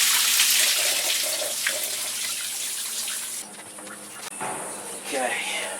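Water and coolant flush out of a car radiator onto a driveway as a steady, hissing rush of running water, loud and close, shifting in tone partway through.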